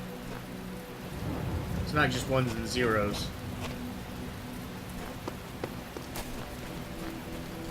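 Steady rain falls throughout a scene in the video game The Talos Principle, a soft continuous hiss with a few sharper drops, while someone talks over it in the first half.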